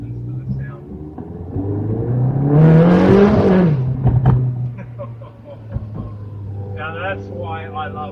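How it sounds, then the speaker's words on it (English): A Ferrari 360 Challenge Stradale engine swells into a loud rev and accelerates, its rising harmonic roar peaking mid-clip before settling to a steady hum, with people speaking around it. "you can actually experience what this car sounds like when you give it a little bit of a booting"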